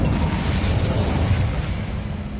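Incendio fire spell cast in Hogwarts Legacy, a loud, roaring whoosh of flame that bursts up and sustains as a thick rumbling blast for a couple of seconds.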